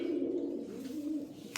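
Pigeons kept indoors in a breeder's loft give a low, steady cooing that runs for under two seconds, fairly faint and close, with no one speaking.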